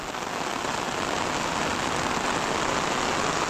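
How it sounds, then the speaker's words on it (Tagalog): Heavy rain pours down without pause on an afternoon after falling since morning, a dense, steady roar that stays loud and even throughout, with a faint engine-like hum underneath. "Iya, grabe, lakas ng ulan."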